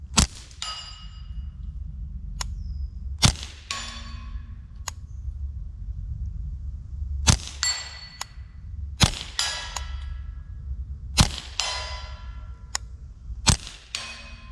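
Steel targets downrange ring out with sharp metallic clangs as a suppressed Spike's Tactical XS Hunter .22 LR rifle hits them, roughly a dozen pings spaced irregularly over steady low background rumble, each with a long bright decay.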